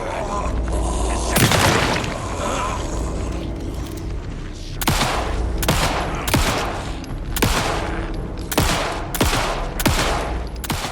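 Gunfire in the video game Alan Wake 2: a burst of rapid shots followed by a series of loud, evenly spaced single booming shots, each sharp report punching through a dense, noisy game soundscape.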